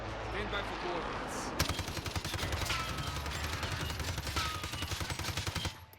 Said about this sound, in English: if we're looking at the hipfire of this gun